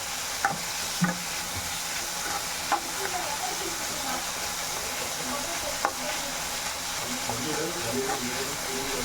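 Tomatoes sautéing with salt in a pan for a tapioca poriyal, a steady close sizzle broken by a few sharp stirring knocks of a spoon against the pan, with no talking.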